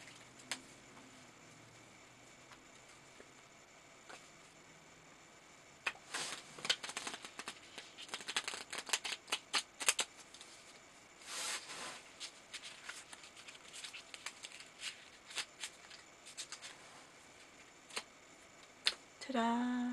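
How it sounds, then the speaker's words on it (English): A deck of playing cards is shuffled in a quiet room, soft riffles and crisp flutters in irregular bursts, mostly alone with faint voice at the end. "I will now do another trick called shuffling."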